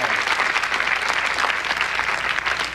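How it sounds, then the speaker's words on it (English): A late-1980s television studio audience gives a steady, full round of applause for a volunteer called up on stage, many hands clapping evenly and close with no talk over it. "Give her a nice round of applause, a little encouragement."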